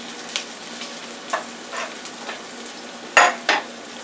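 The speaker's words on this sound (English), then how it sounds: "so now our onions that we have sauteed for our gravy is done" Onions sautéed for a chicken gizzard and heart gravy sizzle softly in a pan while a utensil scrapes and stirs in a few scattered strokes, one louder clatter near the end.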